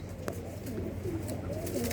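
A newly released pair of pigeons coos softly in short low calls over a steady background murmur, with no talking.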